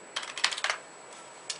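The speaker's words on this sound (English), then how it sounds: "while I'm typing in the word investor" Quiet typing on a computer keyboard: a short cluster of soft, rapid key clicks, a pause, then a single isolated tap, close up with no talking.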